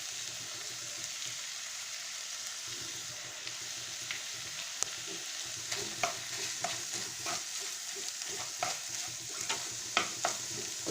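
A savoury pastry filling with olives and parsley sizzles and fries in a pan, a steady soft crackle with intermittent scraping clicks from stirring growing more frequent toward the end.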